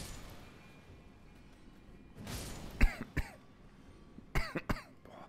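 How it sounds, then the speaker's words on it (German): Several harsh coughs from a person playing Elden Ring, a couple of clustered bursts near the middle and another pair near the end, heard close over a low game soundtrack with no talking. "Dieser scheiß Husten bringt mich um."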